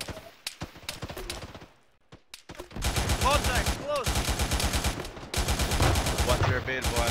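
Gunfire in the military shooter game ArmA 3, scattered sharp shots followed by sustained rapid machine-gun bursts, loud and close, with faint radio voices mixed in.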